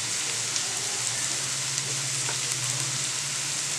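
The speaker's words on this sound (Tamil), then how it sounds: "அது நல்லா வதங்கட்டும்" Spices and masala sizzling steadily in hot oil for chicken lollipop masala, a close, continuous crackle with faint stirring, no voices.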